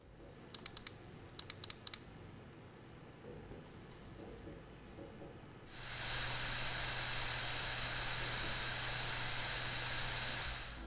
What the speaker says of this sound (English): that's the fan. It gets noisy, really noisy